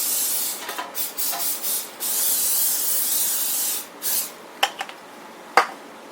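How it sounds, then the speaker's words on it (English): Cooking spray hisses onto a baking pan in several short bursts followed by one long steady spray, close and clear, with a few light taps of the can at the end. "Spray my pan."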